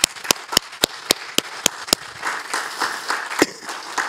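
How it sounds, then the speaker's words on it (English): A church congregation claps in praise during a Sunday service: eight sharp, evenly spaced loud claps, then a softer scattered patter of hands with one more distinct clap near the end. "let's give God another hand clap of praise"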